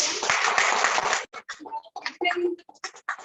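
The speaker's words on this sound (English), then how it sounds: "Please give a round of applause to" A brief burst of audience clapping at a laughter-club meeting, dense and steady for about a second, then thinning into scattered individual claps and small noises.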